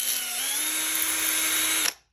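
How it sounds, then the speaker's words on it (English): A drill bores a hole through silicone held tight in a clamp, giving a steady, close, high whine that holds for about two seconds and then cuts off sharply. "So that's why we're drilling the holes."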